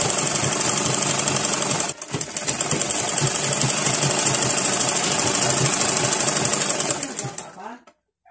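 A sewing machine runs in fast, steady stitching while sewing a zippered pillow case, pausing briefly near two seconds before resuming and stopping just before the end, loud and close.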